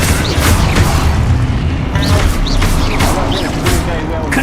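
Expulso exploding spell cast in the Hogwarts Legacy video game, heard as dense, loud booming blasts and crackles continuing throughout, with speech-like game voices mixed in.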